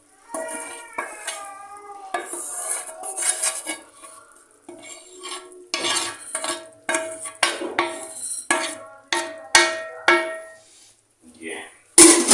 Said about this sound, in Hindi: ये अब हम इसको लाइट आंच के ऊपर इसको ये मिक्स करते जाएंगे